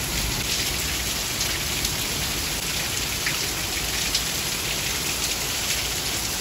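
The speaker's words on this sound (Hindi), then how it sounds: "इतनी खतरनाक वाली बारिश हो रही है बाहर" Heavy monsoon rain pouring outdoors, a dense, loud, unbroken hiss of drops hitting surfaces with no letup throughout.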